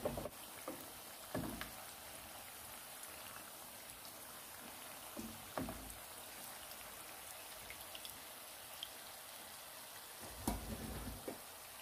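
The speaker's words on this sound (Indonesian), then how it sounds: "digoreng jangan terlalu keras apinya sehingga dia tidak gosong" Onde-onde, glutinous rice balls filled with mung bean and coated in sesame, fry in oil over moderate heat, a soft continuous sizzle and crackle with occasional louder pops, faint and steady.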